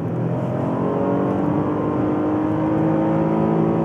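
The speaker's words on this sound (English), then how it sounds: "Just the perfect amount of engine noise invades the cabin" Engine of a 2015 Chevrolet Impala revving steadily from inside the cabin on a country road, a continuous, moderately loud drone with a rising, even tone and no talking.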